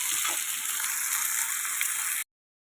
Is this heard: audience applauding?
no